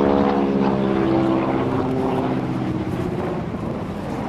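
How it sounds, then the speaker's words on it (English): A propeller aerobatic airplane drones loudly overhead during a four-point hesitation roll at the 2012 NAS Oceana airshow, its engine tone steady and gradually fading, with no talk. "As he goes into a 4-point hesitation roll, stopping the airplane every 90 degrees of rotation."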